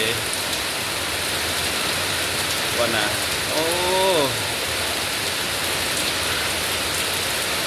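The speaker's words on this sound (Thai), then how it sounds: "บ่ายสามโมงฝนตกอย่างหนักมากเล ย" Heavy afternoon rain pours steadily as a dense, even hiss, with a voice briefly speaking over it midway.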